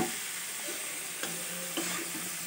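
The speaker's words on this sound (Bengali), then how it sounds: "মেথি শাকগুলো দিয়ে দিলাম।" Fenugreek greens fry with potato and eggplant in a pan, a soft continuous sizzle with occasional light stirring knocks, close and fairly quiet, without speech.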